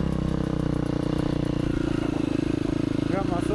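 A KTM 350 dirt bike engine drones steadily nearby with a buzzing, slightly revving tone.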